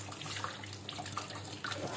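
Water runs steadily from a tap into a tank during installation of a Rheken 400W inverter booster pump, a soft continuous splashing trickle with a low steady hum underneath.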